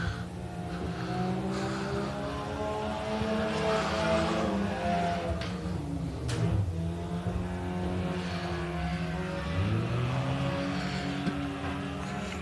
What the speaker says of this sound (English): we'll be racing 15 laps of USRA tuner racing